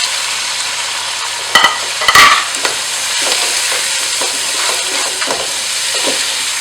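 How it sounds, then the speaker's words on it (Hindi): Onions, tomatoes and ginger garlic paste frying loudly in a pot for beef pulao, a close continuous sizzle with a few sharp clatters of the spoon stirring early on. "अब इसको अच्छी तरह भूनूंगी ताकि इस टमाटर और प्याज जो है वो बिल्कुल जो है हल हो जाए"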